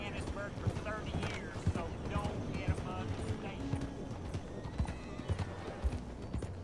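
Horse hooves clip-clop steadily in a fast rhythm with an occasional neigh in Red Dead Redemption 2, under constant game sound and someone talking throughout.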